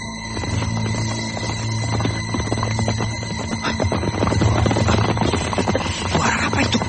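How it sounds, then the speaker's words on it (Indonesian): Horse hoofbeats as a sound effect in an audio drama, a run of rhythmic clip-clop thuds over a humming background that grows slightly louder toward the end. "Seperti derap kaki-kaki kuda."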